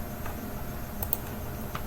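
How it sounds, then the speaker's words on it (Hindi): Shift and Space keys tapped on a computer keyboard, a few light clicks over a low steady background hum with no talking. "रॉ को अगर हमें देखना है तो शिफ्ट और स्पेस बटन अगर हम क्लिक करते हैं"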